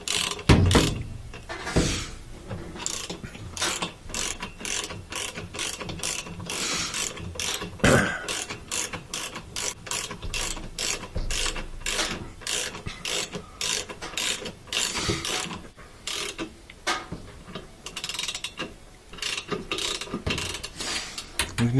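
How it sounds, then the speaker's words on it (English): Ratchet wrench tightening the rotor nut on an LG washing machine, a loud, close run of rapid clicking pawl ratchets in steady bursts with brief pauses throughout. "Put that on, and then we'll tighten this up."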